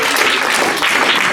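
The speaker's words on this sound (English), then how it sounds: "So let's give a round of applause to our children." Loud, dense applause from an audience cheering children, continuous clapping filling the whole short moment.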